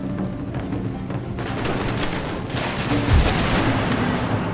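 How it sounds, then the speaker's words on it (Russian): Dense, rapid musket gunfire and rumbling blasts in an Empire: Total War battle fill the scene continuously, with a heavier boom partway through. "Сделайте выстрел, прошу вас, сделайте выстрел."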